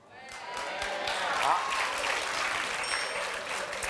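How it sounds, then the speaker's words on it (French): Studio audience on a French family game show applauding steadily, a dense continuous clapping that swells near the middle and holds, with a voice briefly audible over it. "quand le public applaudit comme ça"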